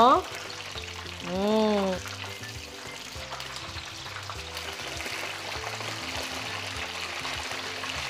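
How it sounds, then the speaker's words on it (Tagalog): Cornstarch-coated chicken pieces fry in hot oil with a steady, close, bubbling sizzle and occasional utensil clinks, opening with a brief whooshing rise. "Tapos itaktak at i-fry na natin sa mainit na mantika"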